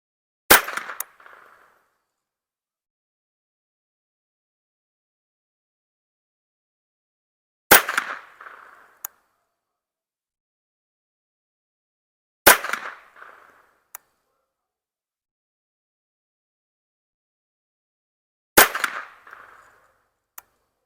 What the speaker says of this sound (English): Magnum Research, CCI Mini Mag, 36 grain hollow point.